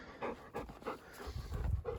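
A wet dog panting rapidly and close by outdoors, quick rhythmic breaths for a couple of seconds.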